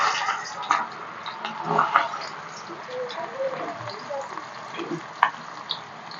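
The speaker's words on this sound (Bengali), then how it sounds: "এবারে পেঁয়াজটা ভাজা হোক" Onions fry in hot oil in a pan for a chicken curry, giving a soft steady sizzle with scattered crackles and stirring clinks, fairly close and moderately quiet.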